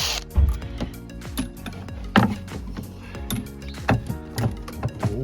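Close, mechanical clicking of a ratchet on the engine of a BMW during rocker cover gasket work, a steady run of ratcheting clicks with a few louder knocks and clanks.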